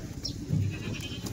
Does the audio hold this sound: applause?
no